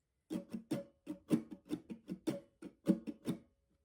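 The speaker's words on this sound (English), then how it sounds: "alternate 1 would sound like this" Acoustic guitar strummed in the alternate 1 pattern for a song, a close, steady run of about a dozen crisp strokes with a few accented hits, played alone and stopping cleanly.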